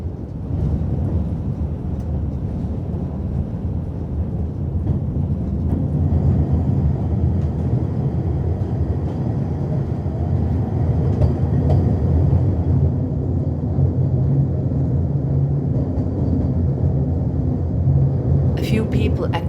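A heavy, continuous rumble of the Brienz Rothorn Bahn mountain train in Switzerland rolling along fills the whole stretch, loud and steady, with a brief sharp rattle near the end.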